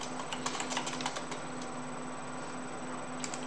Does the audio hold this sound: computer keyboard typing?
yes